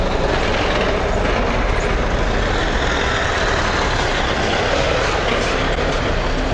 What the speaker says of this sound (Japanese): 電車来てる